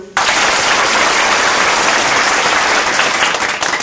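Men in an audience clap loudly together, a dense wall of applause that starts abruptly and carries on at an even, sustained level for several seconds before tapering off at the very end.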